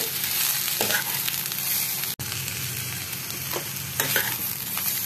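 Green chillies and tomato stir-frying in a pan, a loud continuous sizzle with scraping stirring strokes throughout and a sharp clatter midway.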